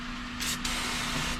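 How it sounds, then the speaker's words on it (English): A short, close hiss of starting fluid sprayed from an aerosol can into the intake of an all-motor EF hatch, a quick burst over a steady background hum. "I'm gonna spray some of this in the starting fluid in the intake"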